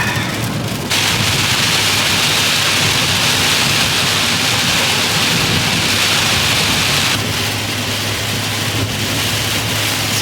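Rain falling on a road trip, a loud, dense, steady hiss of downpour that carries on unbroken, with the wash brightening briefly near the start and again toward the end.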